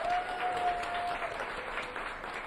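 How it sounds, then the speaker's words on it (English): An audience at a small-business pitch event gives steady, moderate applause that continues at an even level for the whole stretch, with a faint tone audible early on. "Give him another round of applause as he begins."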